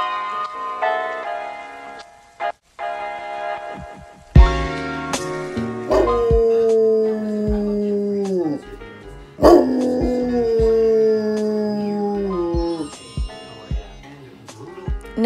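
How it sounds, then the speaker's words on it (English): A Rottweiler howls in long, sustained, sliding cries answering a siren, rising and falling in drawn-out wails, interrupted by short gaps and a few sharp clicks. "No, he's not howling for no reason. The sound of a siren triggers him"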